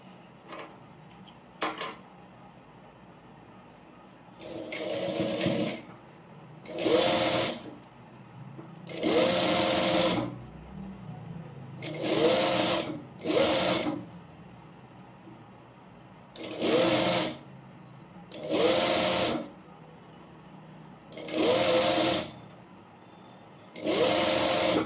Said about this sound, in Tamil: இப்படி தான் ஸ்டிச் பண்ணணும்.